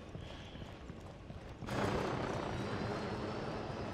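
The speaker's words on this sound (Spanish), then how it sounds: "¿Por qué hay un helicóptero por ahí que parece que se va a estrellar?" A helicopter in the Ghost Recon video game thumps with a steady rotor chop that swells suddenly into a louder, broad roaring wash partway through, staying close and constant, with no voices over it.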